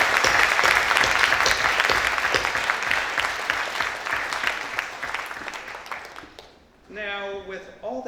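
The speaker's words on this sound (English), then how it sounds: "So please, give yourselves a round of applause." Graduates at a hooding ceremony for a public policy master's program fill a hall with loud, sustained applause that slowly fades over about six seconds before a speaker resumes talking.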